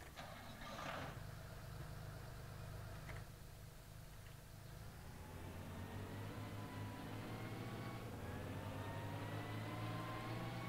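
A vehicle engine in the Farming Simulator 19 video game idles and then revs up, a steady low hum rising in pitch, heard alone and fairly close.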